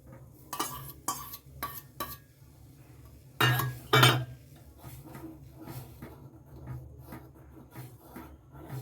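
A spoon stirs milk in a pot, giving soft scraping swirls and a few sharp metallic clinks against the side, close and fairly quiet, with a cluster of louder knocks midway and no talking.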